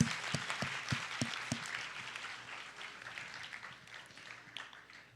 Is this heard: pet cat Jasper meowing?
no